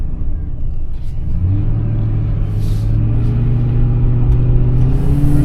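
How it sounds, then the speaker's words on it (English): A 2004 Mercury Marauder pulls away under light throttle, its deep V8 rumble rising in pitch as it gathers speed, heard steadily from inside the car with road noise and no talking. "So I'm barely even touching the pedal just to get us going, and you can kind of feel that surge."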